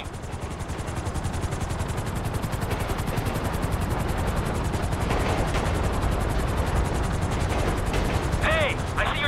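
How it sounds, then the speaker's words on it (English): Helicopter rotor chop in the video game GTA 5 thuds loudly and continuously throughout, with a brief voice-like sound briefly rising over it near the end. "I see your chopper from the train!"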